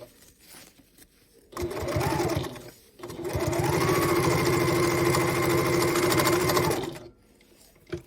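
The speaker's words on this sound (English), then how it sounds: "let's sew this together" A sewing machine stitches a half-inch seam on a boxy bag in two runs: a short burst of steady motor hum and needle chatter, a brief pause, then a longer continuous run, close and loud, with quiet handling between.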